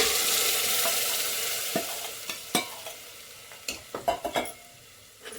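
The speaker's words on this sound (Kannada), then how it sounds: "ಇದನ್ನು ಕೂಡ ನೀಟಾಗಿ ಸ್ವಲ್ಪ ಹಸಿ ವಾಸನೆ ಹೋಗೋವರೆಗೂ ಸ್ವಲ್ಪ ಫ್ರೈ ಮಾಡ್ಕೊಳ್ಳಿ" Ground masala paste frying in a pan for a village-style chickpea and pea gravy, a steady sizzle that slowly quiets, broken by scattered sharp scrapes and taps of a spoon stirring, clustered near the end.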